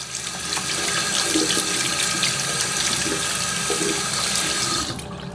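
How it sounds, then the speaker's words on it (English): Makeup brush rinsed under a running bathroom tap, with a steady close hiss of flowing water and splashing that continues evenly for several seconds, then tapers off at the end. "when you're done, squeeze and rinse it"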